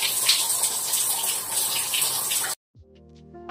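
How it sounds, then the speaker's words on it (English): Shower water runs steadily while hair is being washed, a loud even hiss that stops abruptly, followed by quieter faint dripping and small handling noises. "Straight to the washroom. I'm gonna start washing my hair."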